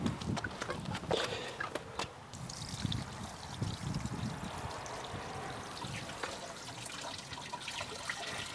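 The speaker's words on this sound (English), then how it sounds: "Well, I need to tip this water out." Water trickles and pours out of a tipped Alto 10 water-fed pole resin tank outdoors, a faint uneven splashing stream running throughout with no voices.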